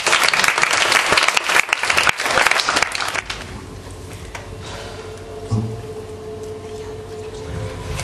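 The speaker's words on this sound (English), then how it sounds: "Give Dave a round of applause." Audience applause at a hypnosis stage show in Valkenburg, 2012: a loud burst of clapping for a volunteer that lasts about three seconds, then drops away to a quiet room with small shuffles and a soft bump.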